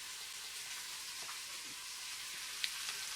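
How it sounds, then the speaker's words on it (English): Potatoes boil in a pot with a constant soft hiss and bubbling, a faint even wash with one small clink near the end and no talk. "So I have here some potatoes boiling, and I'm going to add the Swiss chard to that."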